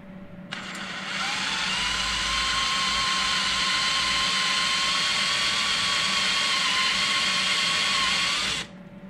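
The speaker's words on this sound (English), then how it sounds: "I'll try this in my portable battery powered drill." A battery drill driving a screw extractor counterclockwise into a stripped screw whirs steadily at close range for several seconds, a constant high motor whine that starts abruptly and cuts off at the end.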